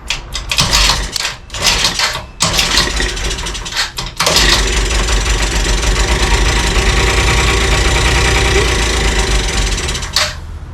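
A rebuilt motorcycle engine cranks and catches in a few short bursts with throttle blips, then settles into a steady, loud, continuous running note close by before cutting off near the end.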